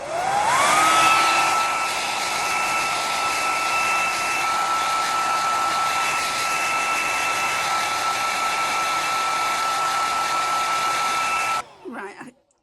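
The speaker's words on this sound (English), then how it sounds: "so I'm going to dry my hair" A Revlon rotating hairdryer with diffuser starts up with a rising whine, then runs as a steady loud whir with a constant high tone for about eleven seconds before it cuts off abruptly.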